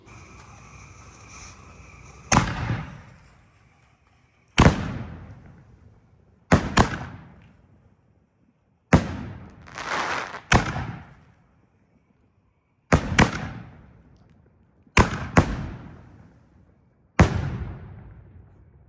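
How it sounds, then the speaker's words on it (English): Master 7 canister shells and a salute shell explode one after another in about eight loud, sharp booms spread across the stretch. Each blast trails off into a crackling decay, with near silence between them. "the last shell is a salute shell, which was actually the first type of salute shell that I've ever had"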